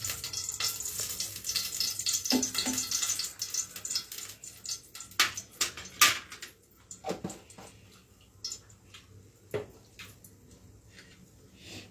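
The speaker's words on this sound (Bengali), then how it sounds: "জল ছিল, গরম ঘিয়ের মধ্যে পড়েছে, তারপর বাজি ফাটতে শুরু করেছে" Water spattering into hot ghee in a kadai while making paneer halwa, loud sizzling at first that breaks into sharp scattered pops and crackles, thinning out toward the end.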